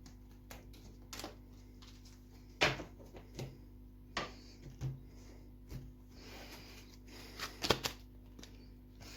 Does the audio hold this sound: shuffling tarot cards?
yes